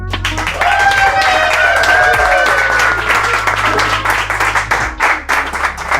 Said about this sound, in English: Please engage applause protocols for Kevin Willmott.